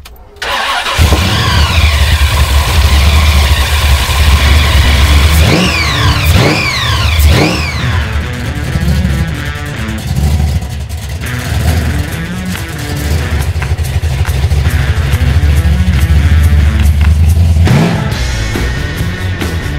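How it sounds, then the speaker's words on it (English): A supercharged big-block Chevy V8 in a 1971 Holden HQ GTS coupe starts and idles loudly, then is blipped through several sharp, rising revs before settling back to a heavy, lumpy idle. "spectacular supercharged big block Chevy powered HQ GDS coupe"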